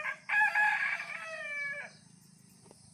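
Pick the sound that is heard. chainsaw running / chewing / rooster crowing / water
rooster crowing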